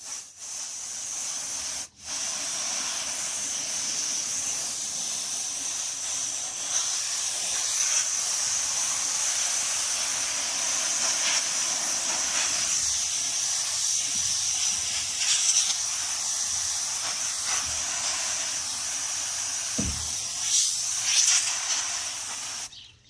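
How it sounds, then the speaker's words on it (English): A steady, loud hiss from a compressed air duster spraying dust out of a computer runs almost continuously, with brief breaks and slight shifts in intensity, close to the listener. "I'm going to take this spray electronic duster"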